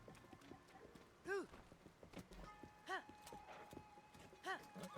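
Horse hooves clip-clop faintly at an easy walking pace in the video game Zelda: Tears of the Kingdom, while a person talks over the quiet, rhythmic steps.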